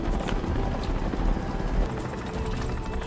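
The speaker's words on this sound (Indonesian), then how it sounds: "Dengan menggunakan helikopter, Andi dan kawan-kawan pun terbang ke Sudan Selatan." Helicopter in flight in the action film The Old Guard, a steady loud rotor chop and engine roar running throughout with a faint high whine over it.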